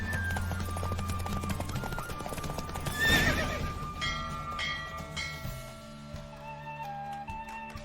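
Hoofbeats of a horse at full gallop in a race in The Witcher 3, a rapid clip-clop rhythm up close with a whinny midway, backed by music and rumbling ambience.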